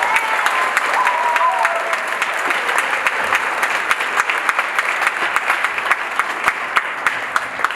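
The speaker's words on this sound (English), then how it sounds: "So please give them a big round of applause for all of their support." An audience at a high school spring concert applauds steadily and loudly, a dense wash of many hands clapping at once that holds for several seconds without dying away.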